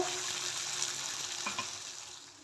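Ground spice paste with cumin frying in hot oil for a Maharashtrian drumstick curry, a steady close sizzle with brief scraping stirs, no voices.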